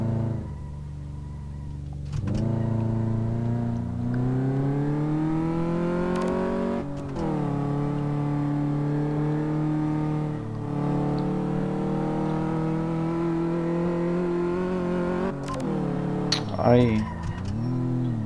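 SUV driving and accelerating in Car Mechanic Simulator 2015, a steady engine drone rising and shifting in pitch through several gear changes, with a person speaking over it.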